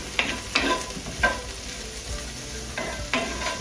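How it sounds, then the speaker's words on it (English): A spoon stirring salted and peppered food in a sizzling pan, several distinct scraping strokes over a steady close sizzle, with no talking. "Okay, we're going to give that a stir."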